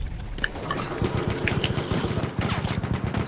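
Video game gunfire: repeated rapid bursts of automatic shots rattling steadily through the whole stretch, close and fairly loud, with short gaps between volleys.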